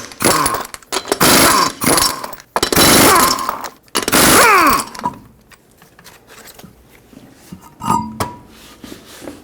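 A power tool with a 21mm socket spins off the wheel lug nuts on a 2006-2010 Hyundai Sonata, giving several loud, close, whirring bursts over about five seconds before going quiet.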